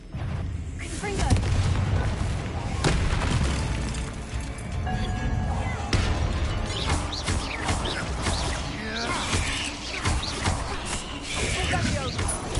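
Fire spell blasts in Hogwarts Legacy, with booming impacts and crashing bursts recurring through dense game sound effects and music, loud and close, while a voice speaks over the action.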